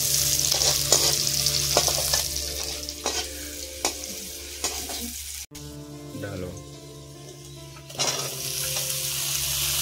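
Green chillies frying in hot oil in a pan while making poha: a loud, close sizzle with frequent stirring clinks and scrapes, a brief break midway, then the frying resumes.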